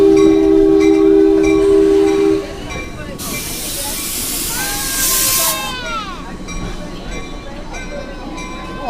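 Passenger train interior on a New York line approaching Morristown: a loud steady whistle-like tone and rolling rumble, then a burst of hissing air and gliding squeals, with a voice speaking over the onboard noise.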